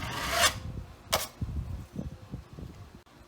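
A sanding sponge rubs over dried joint compound on a patched drywall hole, its edges blending into knockdown texture. Several close, raspy scrubbing strokes sound, each stroke sharp and brief, with softer rubbing in between.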